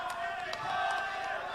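Audience at a gubernatorial election debate breaks into applause for a candidate pair, a steady, moderately distant wash of clapping and crowd murmur with a few sharper claps standing out.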